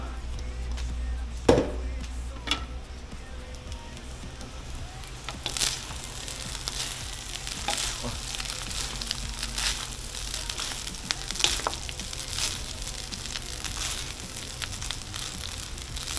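Fried rice being stirred in a hot pan for a birthday meal, steady sizzling and frying with occasional scraping and clacks of the utensil, continuous and close.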